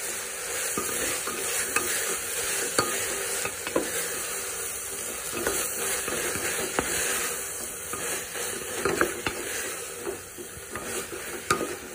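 Tomato frying with spicy pepper beef roast in a pan, a continuous sizzle broken by repeated scraping stir strokes at close range, with no voices.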